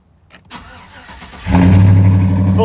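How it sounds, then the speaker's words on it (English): A leveled 2004 Chevrolet Silverado 1500 Z71 4x4 truck is started up: a few quiet clicks, then at about 1.5 seconds the engine cranks and catches, settling into a loud, steady idle with full exhaust. "Starting it up."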